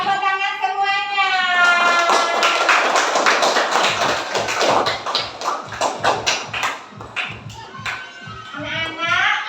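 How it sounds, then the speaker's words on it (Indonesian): Children in a classroom clap together. A scattered burst of applause settles into a rhythmic, patterned clapping of close, sharp hand claps, with children's and a teacher's voices heard at the start and end. "Tepuk tangan semuanya."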